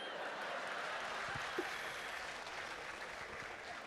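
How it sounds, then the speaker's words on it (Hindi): Scattered applause from the audience at a Hindi comedy and satire poetry recital, soft and somewhat distant, holding steady for a few seconds with no speech over it. "कमाल है पीछे कुछ बुजुर्ग भी ताली बजा रहे।"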